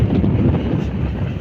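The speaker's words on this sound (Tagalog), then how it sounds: "Tapos ang ating weather medyo mangin-hangin na konti, amihan." Amihan monsoon wind buffeting a boat at sea off Surigao, a loud, continuous low rumble of gusts battering the microphone with no voices.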